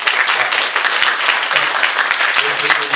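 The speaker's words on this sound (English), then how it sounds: "Give a big applause" Audience applause at a university lecture event at Asia University for Professor Thomas Südhof, loud and sustained, with many hands clapping at once.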